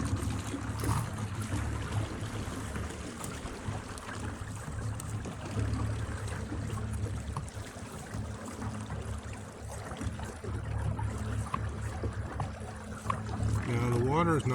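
A motorized pedal boat, fitted with a reverse gear, churns across calm water with a steady low motor drone and constant splashing wash, someone talking over it at times.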